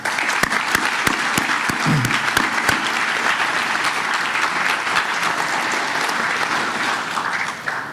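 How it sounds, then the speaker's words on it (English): A large crowd claps steadily and enthusiastically, a dense continuous wave of applause with a few sharp individual claps near the start. "I think the whole school should give them a big round of applause."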